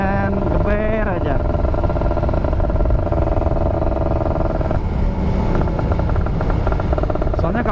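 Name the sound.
motorcycle engine revving at a red light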